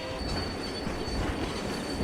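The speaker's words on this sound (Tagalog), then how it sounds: "hindi nila namalayan ang isang tren sa likod nila na mabilis na padating" A fast train approaches from behind, a steady loud rumble and rush of rail noise with faint wheel squeal, with no voices.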